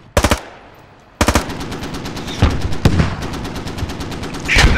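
A .50 cal machine gun in the game Squad fires close and loud in rapid bursts: a short burst, a pause, then long sustained strings of heavy shots with scattered impacts.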